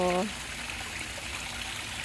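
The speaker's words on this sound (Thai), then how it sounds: "น้ำตกเด้อ" Steady rushing trickle of a small waterfall spilling into a backyard fish pond, continuous and moderately loud, with a brief voice at the very start.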